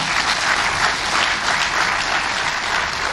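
Loud, dense applause from a town hall audience at a tax reforms meeting in Abuja, a steady wash of many hands clapping with no speech over it.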